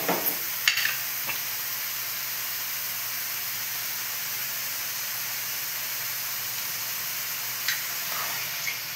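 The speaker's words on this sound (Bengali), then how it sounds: "এবার বেশ করে একটু ভেজে নিই মশলাগুলো" Tomato, capsicum, salt and ground spices frying in a pan give a continuous soft sizzling hiss, with a few light utensil clinks near the start and again near the end, no talking.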